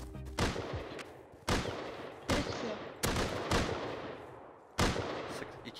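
Gunfire in the survival game Rust during a PvP fight: five heavy, spaced shots with ringing decay between them, fairly distant and quiet, with no speech over them.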